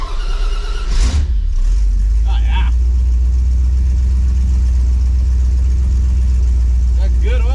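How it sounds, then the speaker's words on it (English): A freshly rebuilt 400ci small-block V8 in an S10 pickup cold-starts with a brief starter crank, catches, and settles into a loud, steady idle that keeps rumbling close by with no talk over it. "Okay, it's dead cold, so I'm gonna be curious how long it takes to heat up"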